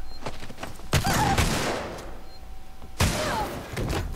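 Gunfire erupts in the video game Alien: Isolation, with two sharp bursts of shots about two seconds apart against a dim background.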